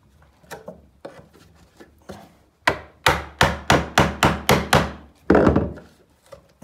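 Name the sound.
prying up carpet gripper with chisel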